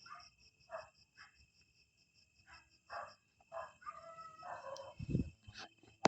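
Dogs bark in short bursts at a distance over a steady chirring of night insects, with a soft thump near the end.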